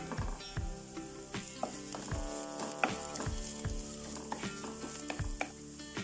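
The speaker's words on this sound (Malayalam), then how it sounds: "അപ്പോൾ അത് ഉള്ളിയും പച്ചമുളകൊക്കെ ഇവിടെ ഒരുവിധം വഴന്ന് വന്നിട്ടുണ്ട്." Chopped onion and green chilli sauté in an oil-filled pan with curry leaves and coriander as part of a Ramadan evening snack, giving a steady close sizzle broken by repeated sharp scrapes and clinks of a stirring spoon, with no talk.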